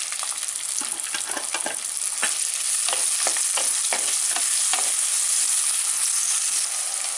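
Chopped onion fries in hot oil in a clay pot, a loud, close, unbroken sizzle crackling with many sharp pops and spits for a dried-fish thokku.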